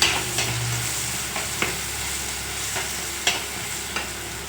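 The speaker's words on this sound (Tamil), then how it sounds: "எல்லாத்தையும் கலரி விட்டுக்கலாம்" Turmeric, rock salt and curry leaves are stirred in a hot pan, with a soft sizzle and several sharp scrapes and clinks of the spoon against the pan at an irregular pace, close by and with no talking.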